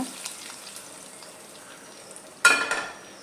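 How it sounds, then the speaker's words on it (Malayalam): Mustard seeds and curry leaves fry in hot coconut oil. A faint, low crackle gives way near the end to a sudden loud, hissing sizzle that quickly settles back down. "നമുക്ക് വെളിച്ചെണ്ണ ഒഴിച്ച് ശകലം കടുക് ഇട്ട് കൊടുത്തിട്ടുണ്ട് ശകലം കറിവേപ്പിലയും കൂടെ നമുക്ക് ഇട്ട് കൊടുക്കാം"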